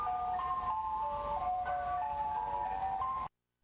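Ice cream truck jingle playing a tinny looping melody on a moving truck, fairly loud and steady before it cuts off abruptly.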